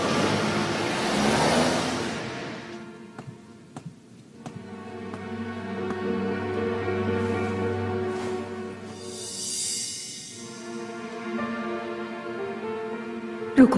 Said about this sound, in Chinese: 老李，开车。